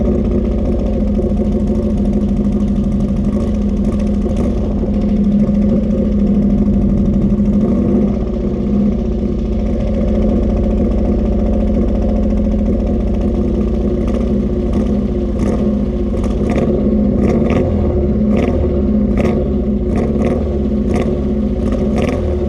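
Ford XR2 MK2 engine running after a cambelt and water pump change, idling steadily and close by, with a mechanical clatter throughout and a few light revs building toward the end.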